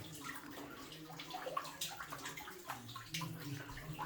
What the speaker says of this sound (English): Is there dripping water?